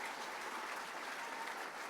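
A crowd applauds award winners at an evening farming awards night, a dense, even wash of clapping that holds steady throughout at a moderate distance.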